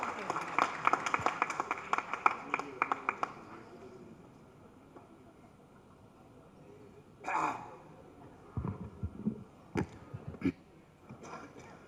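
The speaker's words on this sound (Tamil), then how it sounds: "ஒரு பெரிய கைத்தட்டலோட லெட்ஸ் வெல்கம் வேலா ராமமூர்த்தி அவர்கள்." At a film pre-release event on stage, a burst of audience clapping rings out for the first few seconds and then fades. Scattered voices and occasional louder sounds follow over quieter background noise.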